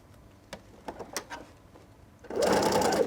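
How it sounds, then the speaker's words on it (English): A sewing machine starts up and stitches steadily from the inside of a drawstring backpack, preceded by faint handling clicks and taps of the fabric. "and then I'm going to sew from the inside here."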